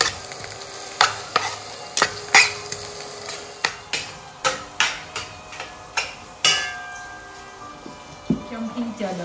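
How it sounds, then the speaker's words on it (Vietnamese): Rice stir-fried in pork fat with crispy pork cracklings in a pan: a continuous sizzle broken by repeated sharp scrapes and taps of the spatula against the pan at an uneven rhythm. "Chiên cơm với lại mỡ thì sẽ ngon hơn với dầu nha cả nhà."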